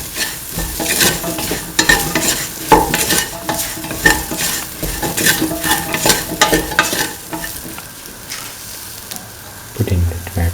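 Potato and soya chunk pieces stirred and sautéed in a hot pan for a veg coconut milk rice, a steady frying sizzle broken by repeated scraping strokes of a spoon against the pan, close and fairly loud, with no talking.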